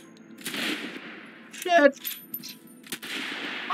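Rifle gunshots in a video game, a few sharp reports spread across the moment with a voice exclaiming and talking between them.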